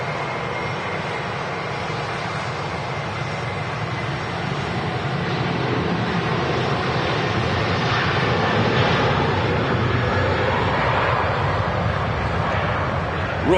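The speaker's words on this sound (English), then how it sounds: "The Aer Lingus A330-300 CF6 engines making a racket." Aer Lingus Airbus A330-300 with CF6 engines roars at Manchester Airport, a loud broad rumbling drone that swells midway and holds steady, with a voice speaking faintly beneath it.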